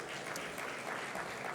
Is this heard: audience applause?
yes